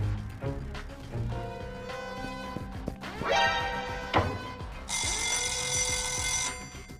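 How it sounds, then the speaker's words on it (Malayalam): A fire alarm bell rings loudly and continuously for about a second and a half near the end, following a stretch of busy tonal music-like sounds. "ഞാൻ ഫയർ അലാം ഓൺ ചെയ്തിട്ടുണ്ട്."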